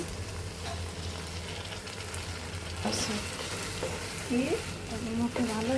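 Beaten sour yogurt fries in oil in a pan with a close, continuous sizzle, broken now and then by stirring and spoon scrapes.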